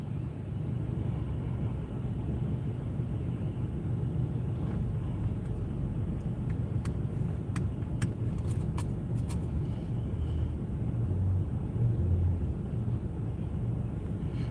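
A car drives down city streets, giving a steady low engine and road rumble throughout, with a few faint ticks partway through and nobody speaking.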